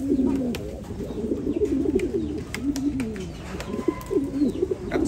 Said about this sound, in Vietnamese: Chim bồ câu này thì mình rất là thích.